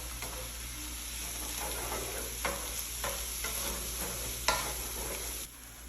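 Sliced onion fries in oil as it is stirred, a low steady sizzle broken by repeated scraping strokes and a sharper knock or two of the utensil against the pan.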